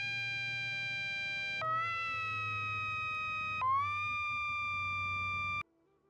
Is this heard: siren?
yes